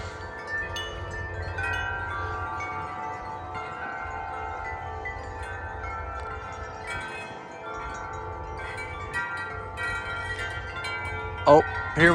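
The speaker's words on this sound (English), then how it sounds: "the Corinthian bells is blowing now" Corinthian bells wind chimes ringing outdoors on a windy day, a sustained shimmer of metallic tones with scattered brighter strikes as the wind pushes them, over a low rush of wind noise.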